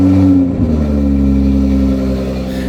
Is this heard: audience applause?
no